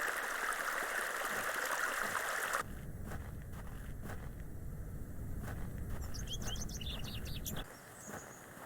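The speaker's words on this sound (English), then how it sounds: "This is a lovely little beck. It's where we get our water, miss." Flowing water from a small beck in the game Excavation of Hob's Barrow, a steady rushing babble loud at first, then softer and lower, with birds chirping and tweeting nearby through the latter half.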